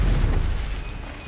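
Burst of the Incendio fire spell in Hogwarts Legacy, a short booming whoosh of flame that hits loud at once and then fades within about a second.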